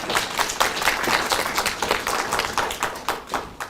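An audience at a disability welfare centre's program briefing claps for a presenter, a dense run of hand claps with audible individual strikes, fairly close and sustained throughout.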